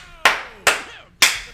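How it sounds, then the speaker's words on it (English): Three sharp, close hand claps spaced about half a second apart, each a crisp loud snap with a short ringing decay, alone with no talk. "Wonderful! I applaud!"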